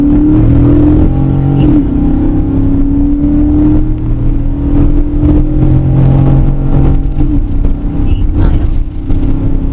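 A Nissan Pathfinder V8 with a cold air intake accelerating hard, a loud close engine drone with rising pitch sweeps through the gears, heard from inside the vehicle while a voice talks over it.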